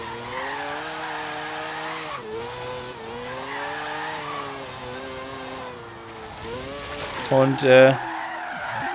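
Drifting car in the racing game Forza Horizon 3 gives a continuous wavering tire squeal over a steady engine drone, loud and sustained throughout, with a brief louder surge near the end and someone talking briefly.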